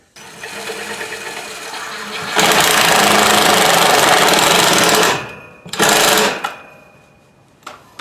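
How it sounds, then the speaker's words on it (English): A power driver sinks screws to fix bracing on a bench grinder stand built from a satellite dish. A lighter whir comes first, then a long loud grinding burst and a second short one, close up. "So I'm going to go ahead and secure that with some screws down here."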